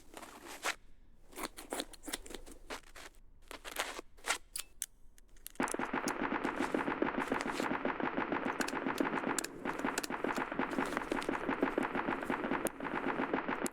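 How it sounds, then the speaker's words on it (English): Repeated gunfire in the Escape From Tarkov video game, first as scattered sharp bursts and then as a dense, continuous rapid-fire barrage with no speech. "that grenade launcher isn't helping our case of actually hearing anyone."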